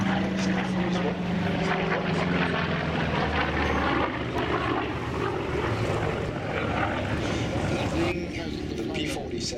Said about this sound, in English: The P-47, just a quick word on the P-47, which is landing now.